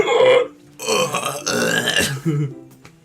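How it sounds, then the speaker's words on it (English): A long, loud, voiced belch rolls out close up in several rough surges with short breaks between them. "that's almost how you burp"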